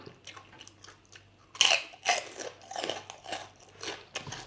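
Crunchy Thai-style banana salad being bitten and chewed up close, a quiet start giving way to loud, repeated crisp crunches and chewing bursts with no talking.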